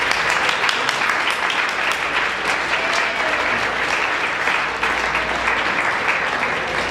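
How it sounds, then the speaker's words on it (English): Sustained applause from an audience honouring the tech team at the opening speeches of a hackathon launch party at the Barbican, dense steady clapping that fills the whole stretch without pause. "So round of applause for the tech team."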